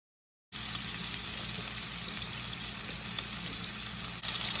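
Ground beef cakes with cilantro and ginger fry in olive oil in a skillet, a steady close sizzle that starts abruptly after a brief silence and continues evenly.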